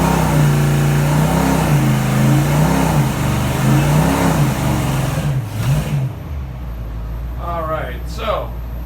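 Stock-rebuilt GM 6.0 LQ9 V8 with an LSxR intake, held at wide open throttle under heavy load on an engine stand, droning loud and steady with wavering pitch before cutting off; brief speech follows near the end.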